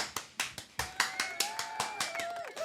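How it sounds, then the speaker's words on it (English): Applause at a Shreveport city council meeting comes from only a few hands: sparse, evenly spaced claps in a steady rhythm, moderately loud, with a faint sustained tone running underneath. "give that young lady a round of applause"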